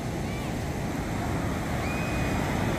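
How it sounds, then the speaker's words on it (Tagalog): Big ocean waves surging onto a beach at low tide near Barangay Bucana, where a large ship has arrived and people are swimming; a steady, loud broadband roar of surf with wind runs unbroken throughout. "Pero pagkalalaki pa rin ng alon."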